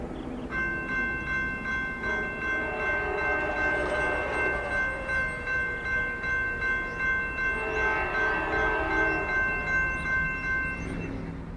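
Norfolk Southern freight train 175 approaching the restored former Pennsylvania Railroad passenger station in Richmond, its multi-tone horn sounding in long sustained blasts over a low steady rumble, moderately distant.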